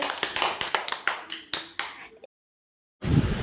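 Children clapping their hands indoors, a quick run of about a dozen sharp claps fading out, followed by a brief silence and then room noise.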